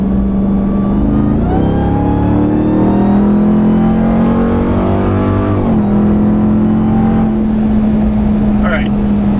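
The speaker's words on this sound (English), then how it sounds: "we're going to do a little pull here of the stock intake so you can hear what it sounds" Loud, close RAM 1500 TRX engine with its stock intake, revving up in a strong rising pull, easing, then climbing again, heard from inside the cabin.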